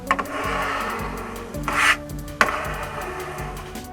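Foley recreation of Mikey's skateboarding for TMNT 2014, made with everyday household items: a steady close rolling rub with a rough wooden rasp, punctuated by a sharp scrape near the middle and a hard knock shortly after.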